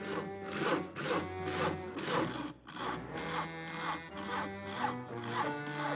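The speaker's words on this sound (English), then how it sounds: "Isn't that your house Harry is sawing on?" Steady back-and-forth sawing at a house wall in a cartoon, a regular rhythmic rasp of strokes repeating about twice a second, fairly close.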